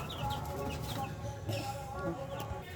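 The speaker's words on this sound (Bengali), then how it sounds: "কয় কটা মুরগি পুষেছে দেখো" Chickens cluck in short repeated calls nearby, with a voice talking faintly in the background.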